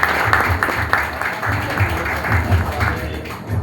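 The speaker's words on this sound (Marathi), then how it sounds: "त्यांचा जोरदार टाळ्या झाल्या पाहिजे।" Applause from an audience at a police ceremony returning stolen property to complainants, with steady clapping running throughout amid crowd noise and voices.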